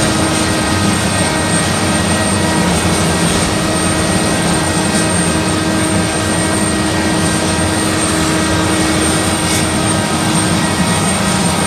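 A jet airliner with small CF34 turbofan engines on a humanitarian flight drones loudly and continuously, a dense roar with a faint high whine and no letup.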